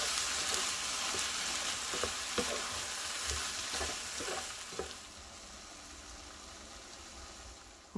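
Eggplant frying and stewing in a pan, a dense close sizzle broken by scraping stirs and soft clicks for about five seconds, then the hiss settles into a quieter steady simmer.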